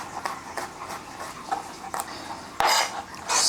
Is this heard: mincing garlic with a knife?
yes